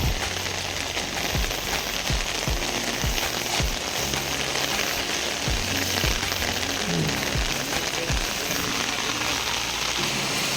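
Steady rain pours down outdoors during a tropical downpour, a dense continuous hiss with heavy drops thudding close by under a shelter, constant and loud throughout.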